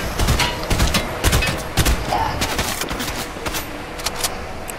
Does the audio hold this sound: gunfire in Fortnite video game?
yes